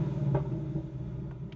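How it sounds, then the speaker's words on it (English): A muscle car engine in sport mode rumbles low and steady on a wet, snowy road, a muffled, close drone heard from inside the car, with brief, faint swells. "Just a sick sounding car."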